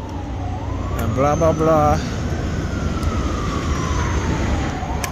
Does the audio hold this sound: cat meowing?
no